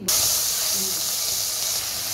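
Rohu fish pieces go into hot oil with a loud, steady broadband hiss of frying that holds for the whole stretch, close and continuous with no talk over it.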